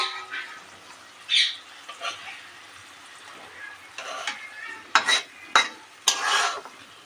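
Egg and potato dish frying in a pan as the egg is flipped, with several short scraping, sizzling bursts, the loudest near the end, over a low steady background.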